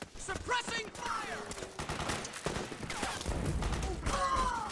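Suppressed gunfire in Metal Gear Solid 4 during a firefight, rapid bursts and shots crackling steadily throughout, with some voice sounds mixed in.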